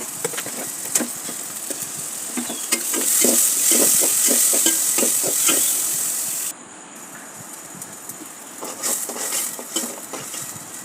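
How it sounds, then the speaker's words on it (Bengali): Raw papaya sautéed with spices in a pot, with a steady sizzle under repeated scraping and clacking strokes of a spoon stirring, the frying sound easing partway through before the stirring resumes. "সব রকমের মশলা দিয়ে ভালোভাবে আগে কষিয়ে নেব।"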